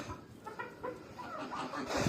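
A local-breed rooster clucks nearby in short, choppy bursts, with light background noise.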